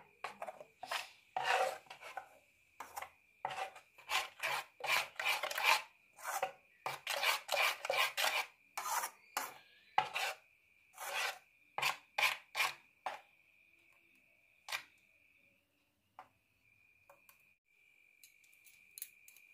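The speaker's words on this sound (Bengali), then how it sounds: "এবার এই মিশ্রণটা এগুলো একসাথে ভালো করে মিশিয়ে নিচ্ছি।" Moong dal batter with turmeric and salt being mixed briskly in a bowl, a rapid run of scraping, rasping strokes up close with short pauses, tapering off near the end.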